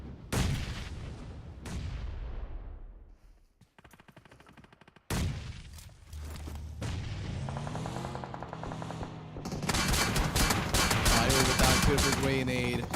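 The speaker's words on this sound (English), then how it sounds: "Beautiful grenade." Dense gunfire and explosive bursts fill a battle royale video game match, loud and nearly continuous, with a sharp blast followed by rapid automatic fire.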